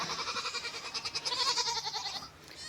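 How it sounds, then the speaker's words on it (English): Young doeling goats on a farm bleat loudly and repeatedly in a wavering, pulsing series of nasal cries, close by and unbroken for most of the stretch, under light rain with no voices. "Some of the doelings from this year were out here screaming"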